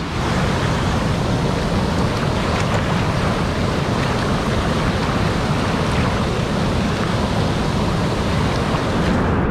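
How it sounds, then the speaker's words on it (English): A loud waterfall in the Adirondack Mountains gives a steady, close roar of rushing water that fills the whole stretch without pause, and no voices are heard over it. "the waterfall is so loud, I don't think you can hear"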